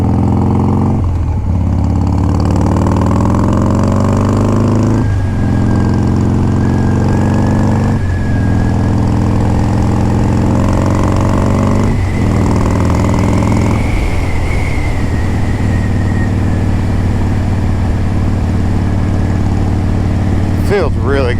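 A Softail motorcycle engine rumbles loud and close while being ridden on a dry, warm day, its deep throb steady through the run and briefly dipping and rising with several gear changes, all wrapped in constant wind rush.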